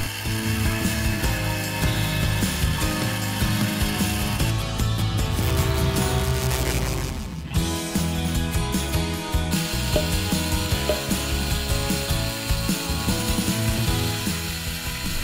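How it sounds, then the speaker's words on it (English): A small lathe turns a metal part for a miniature flame eater engine, cutting from the largest diameter down. It makes a continuous loud mechanical whir and gear chatter with a brief dip partway through. "Start out by lathing the largest diameter first, then progressively working my way down to the smallest diameter."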